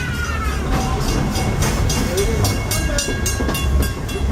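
A Walt Disney World Railroad train rumbles along the rails with a rhythmic clickety-clack, loud and steady, with faint squeals of wheels on track.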